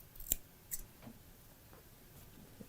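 Scissors trim the fabric seam allowance of a waistband, a few sharp close snips spaced unevenly, with faint handling noise between cuts.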